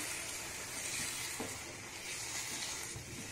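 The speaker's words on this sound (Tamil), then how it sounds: "ஒரு அரை கப் அளவுக்கு தண்ணி சேர்த்து நல்லா வந்து இத கொதிக்க வெச்சுக்கலாம்" Prawn curry simmers in a pan with a steady, close, hissing sizzle and soft bubbling, continuous throughout with no talking.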